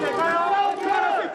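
A dense crowd of supporters and opponents at a chaotic public event, shouting and cheering together in a loud, continuous roar of overlapping voices.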